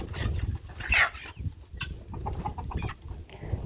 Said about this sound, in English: there's a lot of squabbling going on with the chickens